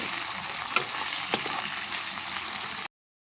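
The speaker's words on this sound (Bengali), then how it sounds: "আর এখন পেঁয়াজটা আমি ভাজছি।" Onions fry in a pan with a steady close crackling sizzle and a couple of sharp stirring knocks, lasting under three seconds before stopping abruptly.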